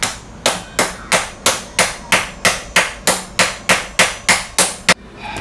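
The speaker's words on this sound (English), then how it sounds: "Hammer it. Gonna try and knock it." Repeated hammer blows strike a stuck bolt on a school bus seat during removal for a skoolie conversion, about a dozen sharp metallic whacks in a steady rhythm, loud and close with no talking.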